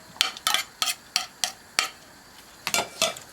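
A spoon stirs chickpeas, green coriander and onion for aloo chana chaat, making about ten crisp scraping clinks against the bowl at an uneven rhythm, close and fairly quiet with no talk.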